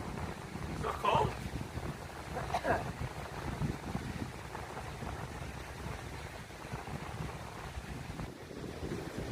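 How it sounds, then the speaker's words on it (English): Wind gusting across the open beach at Ogwen on a windy morning, a constant low roar of buffeting against the microphone with surf-like rushing, and faint voices under it. "Nice how windy. I like the wind."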